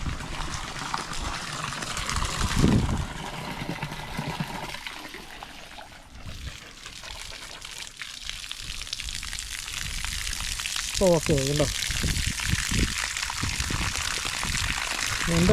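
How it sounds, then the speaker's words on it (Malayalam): Water runs from taps on a garden irrigation line with every outlet opened, making a steady, fairly loud hiss and splatter throughout, with a brief voice speaking near the end. "ഇപ്പം എല്ലാ ടാപ്പുകളും ഓപ്പൺ ചെയ്തുകൊണ്ട് തന്നെ ഇപ്പം എല്ലാ എൻഡിലും വെള്ളം വരുന്നുണ്ട് കണ്ടോ"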